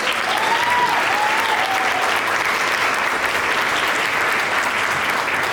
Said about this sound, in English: Can we have another round of applause for the stars?